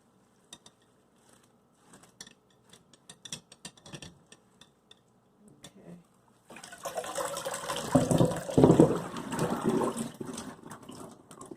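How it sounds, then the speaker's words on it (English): Cold tap water running into a container for a hibiscus sorrel drink: a few scattered clinks and small sounds, then a loud, steady gushing stream that fills the space for several seconds. "bear with me as the water runs. And you have to use cold water."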